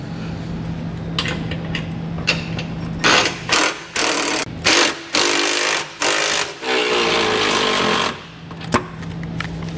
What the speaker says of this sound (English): We're gonna come back with a 19 millimeter socket and snug up all of our fasteners before we torque them down.